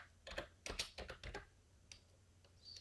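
Someone types on a computer keyboard while searching for an APK installer on a Windows PC. The keys make quiet, close clicks in two quick clusters, followed by a few scattered taps.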